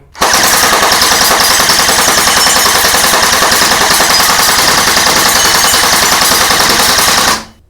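A black AK74U electric gel blaster with blowback, running on a 7.4-volt battery and shooting at about 220–240 fps, fires one long continuous full-auto burst of rapid mechanical cracks that lasts around seven seconds before cutting off.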